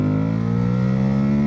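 Ducati DesertX motorcycle on stock exhaust, its engine induction roaring in a steady, loud, sustained rev with strong low harmonics, close by and continuous with no talk.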